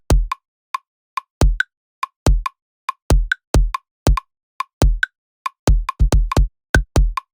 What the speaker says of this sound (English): First up, we have the kick drum, and it sounds like this.